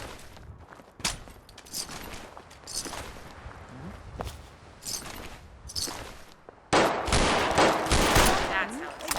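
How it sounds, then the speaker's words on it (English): Gunfire in Fallout 4 on survival difficulty: sharp, irregular shots crack out in scattered bursts, then a dense, loud volley of rapid fire erupts near the end, with no talking. "returning fire."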